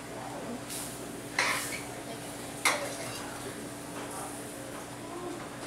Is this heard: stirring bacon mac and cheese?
yes